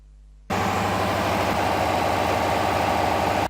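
An internal combustion engine running on a heat balance test rig in a lab starts abruptly after a quiet moment, then runs as a loud, steady, throbbing drone until it cuts off at the end.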